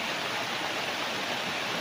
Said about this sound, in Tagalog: Yan, ito yung ilog mga kapraps.